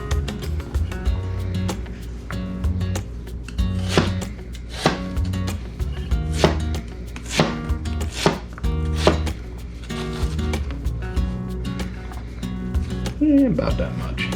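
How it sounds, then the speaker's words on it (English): A knife rough-chops parsley on a cutting board for venison steak wraps at a camp cooking setup, a run of sharp, evenly spaced thuds close by with some low background hum. "Just a rough chop."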